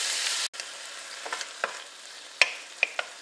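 Ground turkey sautés in a pan, a soft, quiet sizzle broken by a few sharp clicks and scrapes of stirring, with no talking.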